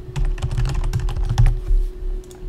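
Code is entered on a computer keyboard in steady, quick typing with closely spaced key clicks, close and alone, over a faint steady hum.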